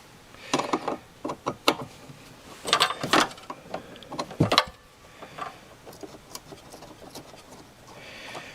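Metal wrench working the choke fitting on a Mikuni carburetor, a string of close, sharp clicks and ratcheting taps in bursts, loudest early on, then fainter scattered clinks, with no talk.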